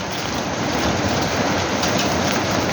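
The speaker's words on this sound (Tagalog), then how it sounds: "Ulan na guys!" Heavy rain pours down in a dense, loud, steady hiss with no break, close by and without talk.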